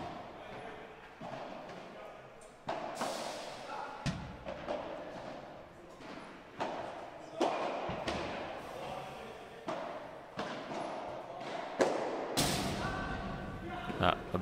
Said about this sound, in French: Ah, la balle qui prend la grille en haut.